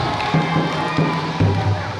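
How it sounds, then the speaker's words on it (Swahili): A church congregation claps together in a steady, dense burst of applause, with crowd voices and a few cheers mixed in at close range. "Tujipongeze kwa makofi mengi"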